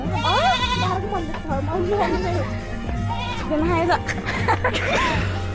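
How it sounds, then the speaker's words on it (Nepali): Several goats bleat in wavering, high cries over a background of voices and farmyard noise at a village wedding. "हाम्रो गाउँको प्यारो प्यारो बाख्रा एउटा दुईटा"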